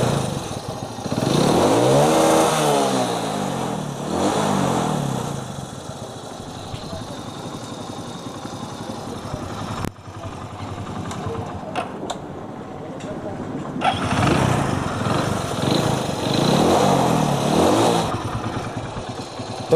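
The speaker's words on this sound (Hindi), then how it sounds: "तो मैं बाइक को करता हूँ स्टार्ट" A Hero iSmart 110 motorcycle engine runs after a timing chain repair, idling with a steady mechanical chug and occasional rises in revs, close by, with someone talking over it.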